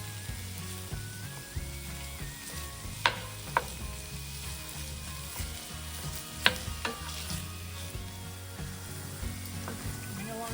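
Grass-fed 80% lean ground beef sizzles steadily in a pot while a utensil breaks it up and stirs, with occasional sharp scraping clicks over the constant frying hiss.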